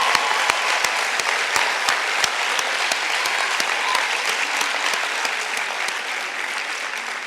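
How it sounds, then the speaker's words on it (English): Audience applause at an international master's degree programs end-of-year graduation ceremony in 2019: a steady, dense burst of many hands clapping throughout, loud and sustained with a few sharper individual claps standing out. "Let's give them another round of applause."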